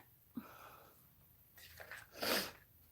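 A single sharp sneeze close to the mic, preceded by a quick intake of breath, in a quiet indoor room.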